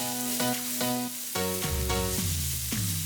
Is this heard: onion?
yes